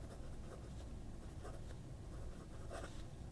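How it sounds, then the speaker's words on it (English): A Conway Stewart Churchill fountain pen with a springy 18 karat nib scratches and scrapes across paper in short, quiet strokes heard up close, with soft irregular rhythm and no talking. "First of all, let's just write with it. Springy 18 karat nib."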